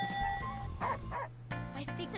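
Cartoon wolves drawn like dogs bark in a few short, clear yips, with speech or music heard around them.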